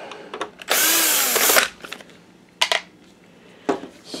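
A power drill whirs loudly for about a second, backing a screw out of a BenQ HT2550 4K DLP projector during repair, followed by a few short clinks and handling noises of parts nearby.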